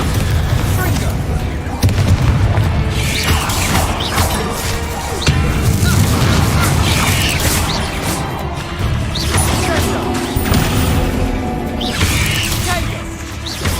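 Bombarda blasting spell going off in Hogwarts Legacy, loud booming crashes and smashing impacts repeating over dense game action and combat noise, with brief spoken spell names.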